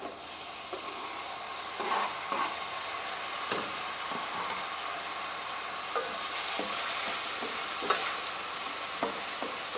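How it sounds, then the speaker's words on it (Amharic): Onion and tomato sizzle and fry in a pan, with a steady crackling hiss throughout and occasional scraping stirs, close and moderately loud, with no talking. "ሽንኩርት በስሏል። ቲማቲም ጨመርኩኝ።"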